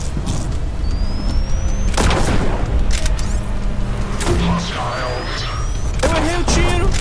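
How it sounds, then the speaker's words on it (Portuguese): Gunfire in the horror video game In Sound Mind: a few sharp, loud booming shots spread across the moment amid clattering game sounds, with a panicked voice shouting in between. "Eu errei o tiro!"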